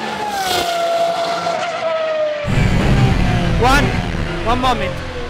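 A loud car engine roars continuously while driving, its pitch climbing and then dropping as it shifts, with tire squeal and skidding noise partway through and people talking over it.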